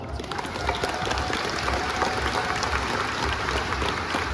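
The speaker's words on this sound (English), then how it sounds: "we gotta give them a round of applause" A large convention crowd of about 1,500 people bursts into dense, sustained applause, loud and steady throughout with no voices rising above it.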